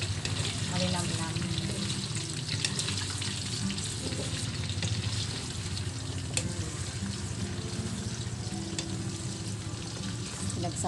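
Food fries in oil in a pan, a dense, continuous sizzle and crackle that stays steady and close for the whole stretch, with faint clinks of stirring.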